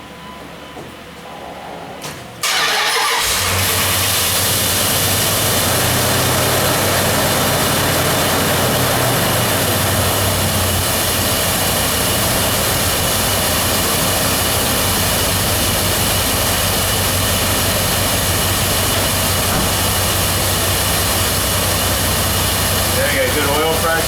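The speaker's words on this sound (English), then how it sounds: "Let's fire this puppy up." A car engine cranks and catches after a couple of seconds of quiet, then settles into a steady, loud, continuous idle that runs on for about twenty seconds.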